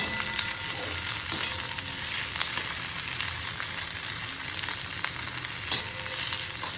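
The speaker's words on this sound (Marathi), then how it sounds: "टमॅटो टाकू, एक छोटासा टमॅटो मध्यम आकाराचा. चांगलं भाजून घेऊ आपण." A medium-sized tomato frying in a pan with Kashmiri red chilli for usal, a steady close sizzle with crackling pops and occasional stirring scrapes, no voices.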